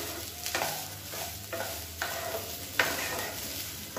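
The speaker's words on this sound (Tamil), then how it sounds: "இப்போ வந்து சாதத்தோட எல்லாத்தையும் நல்லா பரட்டி விட்டுக்கலாம்" Cooked rice being stirred with other ingredients such as coriander in a pan over a medium flame: soft sizzling under repeated scraping strokes of a spatula, several even turns at close range, no voices.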